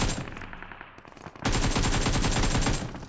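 Automatic gunfire in PUBG Mobile: rapid bursts of loud, close shots, then a short gap, then a longer sustained stream of shots that ends abruptly.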